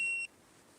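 A single sustained electronic beep from an Autel Evo Nano+ drone remote controller as it powers up, clear and close, cutting off abruptly after a quarter second and leaving quiet background hiss.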